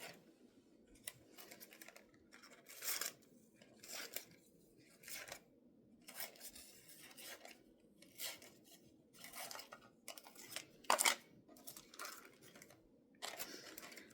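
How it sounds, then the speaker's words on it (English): Scissors trim excess paper from a handmade Christmas ornament, a series of short crisp snips in irregular bursts, close and fairly quiet against a near-silent room, with no talking. "gonna trim this extra paper off"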